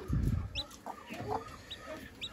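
A hen clucking softly beside a newly hatched chick on a rooftop, low close clucks in short bursts with faint high chick peeps scattered between them.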